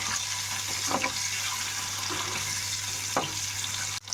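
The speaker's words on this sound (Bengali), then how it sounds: "নুন হলুদ দিয়ে ভালো করে ডিমটাকে এখন একটু সাঁতলাবো" Eggs coated with salt and turmeric fry in hot oil for Bengali egg kosha, producing a steady, close hissing sizzle with a few louder pops and a brief dip near the end, no voices.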